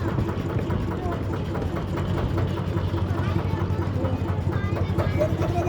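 A boat engine idling and chugging as the boat pulls away from a ferry ghat, a steady low rhythmic throb under nearby chatter and passengers talking.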